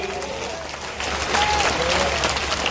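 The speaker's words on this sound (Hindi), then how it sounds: "बजाओ ताली" Crowd clapping at a political rally in Sanchi, steady dense applause throughout with a slight swell about a second in, voices carrying faintly over it.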